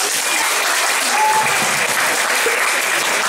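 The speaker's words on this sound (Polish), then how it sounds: "Na brawa." A crowd at a school first-year initiation event applauds a third-place dance performance, with loud, dense clapping that holds steady for a few seconds and has no talk over it.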